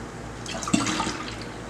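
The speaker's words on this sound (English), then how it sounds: "now I'm going to put again ½ a cup of lemon juice" Half a cup of lemon juice is poured, making a short close splashing trickle of liquid lasting about a second, with no talking.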